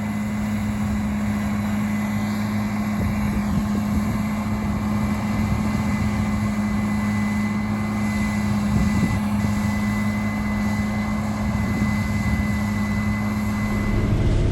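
A combine harvester engine under load drones steadily and loudly throughout, a constant low hum with a faint higher whine, no voices.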